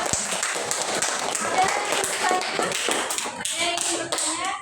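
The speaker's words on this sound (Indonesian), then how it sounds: "Nah, tepuk tangannya dong." A classroom audience claps for a science lesson on vibrations, a dense burst of many hands applauding steadily and fairly close, with some voices mixed in.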